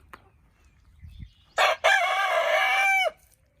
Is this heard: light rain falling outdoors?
no